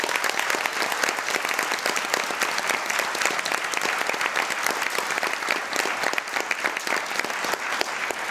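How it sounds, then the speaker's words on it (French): Theatre audience at an improv festival applauds, crisp dense clapping sustained throughout, close and loud with sharp individual claps standing out. "on peut l'applaudir"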